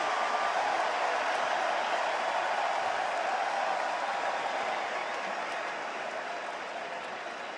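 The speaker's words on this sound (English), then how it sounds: "Crowd has been ignited." Stadium crowd cheering at a Notre Dame college football game against Texas A&M, a steady, dense roar of voices and applause that fades slightly toward the end, with no clear talk over it.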